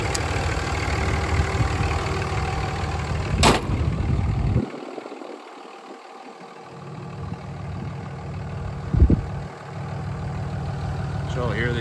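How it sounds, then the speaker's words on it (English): A 2003 Dodge Ram 2500 with a 5.9 Cummins diesel idles with a steady low rumble. The sound drops out briefly partway through and is broken by a couple of sharp knocks. Someone talks over parts of it. "Love these old trucks. They sound really good."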